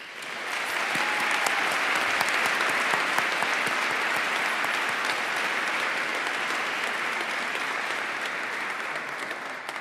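Sustained applause from a commencement audience at SUNY ESF's December 2022 ceremony, honoring doctoral candidates as they join the faculty; steady, dense clapping that fills the hall throughout without a break.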